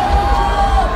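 A large live concert crowd at a show roars and cheers loudly in a dense, brief swell of voices with shouts and whoops.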